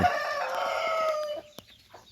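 A rooster crows loudly and close in a chicken coop, one long drawn-out call, followed by a brief cluck and quiet.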